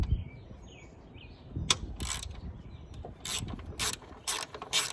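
A ratchet loosening a bolt on a Jeep Wrangler outdoors, several quick bursts of sharp clicking close by, with faint birdsong in the background.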